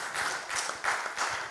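Audience applause greeting a guest speaker arriving on stage at a French corporate conference, dense steady clapping from a crowd that swells in waves across the whole moment, with no voices over it.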